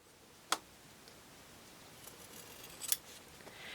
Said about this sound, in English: I can see it just enough to still cut right on that line